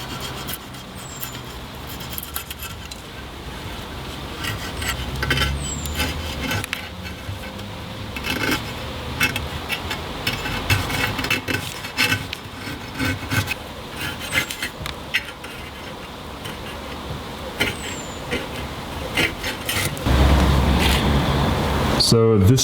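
Old gasket being scraped off the flange of an MGB rear axle, repeated close rasping and scratching strokes of a metal scraper on metal, uneven in rhythm and fairly loud, with someone talking intermittently throughout.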